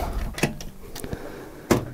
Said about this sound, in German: Und hier ist dann nochmal eine Schublade.